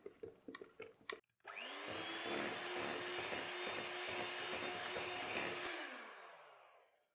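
An electric mixer beats cake batter for a chocolate lamington cake, a loud steady whirring motor running close for about five seconds after some brief clatter, then winding down.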